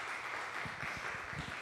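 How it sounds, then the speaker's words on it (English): Faint, steady applause from a recital audience at a senior classical piano showcase, a dense wash of many hands held at low level throughout. "Cameron, give him a round of applause, please."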